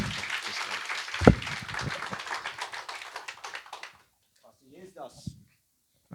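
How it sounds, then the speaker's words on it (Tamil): A church congregation at a Sunday service claps hands together in a dense, rapid burst for several seconds, with one loud sharp hit early on, then fades into quiet and a brief murmur of voices. "நல்ல கைத்தட்டி ஒரு முறை"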